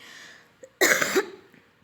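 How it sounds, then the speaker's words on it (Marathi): One person gives a single harsh cough, loud and close, with a short throat sound just before it, in an otherwise quiet moment. "सॉरी, थोडा खोकला झालेला आहे मला, सर्दी झालेली आहे त्याच्यामुळं"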